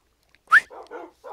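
A dog in the Minecraft video game gives a single sharp bark followed by a couple of softer whining yips, close and clear against silence.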